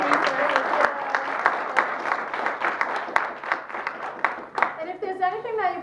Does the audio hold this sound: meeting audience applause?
yes